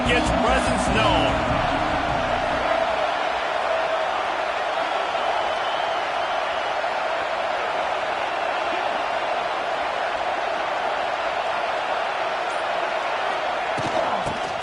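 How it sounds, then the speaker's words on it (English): A football stadium crowd roars in a steady, dense wall of noise throughout, loud and sustained, with a commentator's voice running over it and a few sharp thumps near the start. "This crowd ready to make its presence known."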